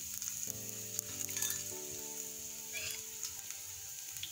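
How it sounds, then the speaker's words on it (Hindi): Chopped ginger and garlic sizzle and fry in a pan with black cumin, a steady crackling hiss with brief stirring clatter, close by and with no talk. "अब इसे थोड़ा फ्राई कर लेना।"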